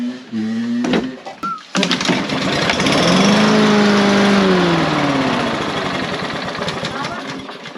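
A repaired dirt bike engine is fired up after an oil top-up and keeps running, a loud close rough idle with a rising then settling tone, preceded by brief clatter and background voices.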